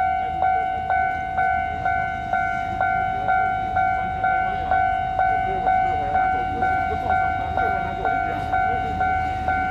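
A push-pull train, an EMU3000 twelve-car set with single diesel locomotives at each end, departs Hualien Port at a level crossing in the evening. A loud, steady run of ringing, pulsing tones sounds over low rail rumble, with voices in the background.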